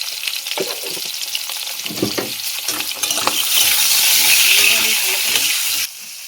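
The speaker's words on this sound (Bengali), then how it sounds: "আমি অল্প তেলে পটলটা ভাজি" Pointed gourd frying with turmeric and salt in a little oil, a loud continuous sizzle with stirring scrapes and clatter that swells into a strong hiss before cutting off near the end.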